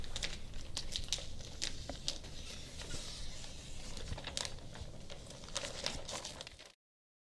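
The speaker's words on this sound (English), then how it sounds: "cut the excess plastic away by tracing the magnetic strips with your knife" A knife cuts excess plastic sheeting along magnetic strips on a ZipWall barrier at an entryway, making faint, close, irregular crinkling and ticking scrapes for several seconds before stopping abruptly.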